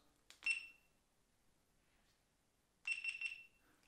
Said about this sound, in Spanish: Cuando termina de grabar, hace unos cuantos más.